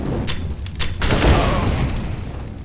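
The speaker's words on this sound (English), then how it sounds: "Throwing flashbang." A flashbang grenade goes off in a round of Counter-Strike: Global Offensive, giving a loud booming burst followed by a sustained rumbling roar that fades slowly.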